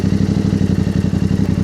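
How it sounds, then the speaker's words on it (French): A Yamaha Ténéré 700 World Raid 2023 motorcycle idles steadily up close after an oil change, its engine putting out a loud, even, pulsing low thrum with a faint mechanical clatter. "tu refais tourner le moteur parce que là, la batterie va dire ça va être nickel"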